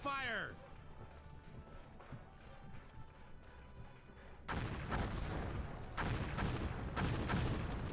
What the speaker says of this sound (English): Opened fire.